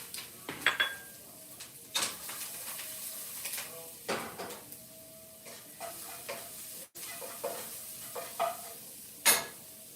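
Minced fresh garlic sizzles in a teaspoon of olive oil in a pan for shrimp burgers, a steady soft frying hiss broken by repeated stirring scrapes and light clinks of utensils against the pan.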